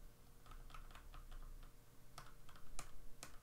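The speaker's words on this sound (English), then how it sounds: "That would be the keycap hitting another keycap because of the spacing." Keys being typed on a Velocifire VM02WS mechanical keyboard with MX Brown clone switches, a run of quiet clicks followed by a few sharper, louder clacks as keycaps knock against neighbouring keycaps.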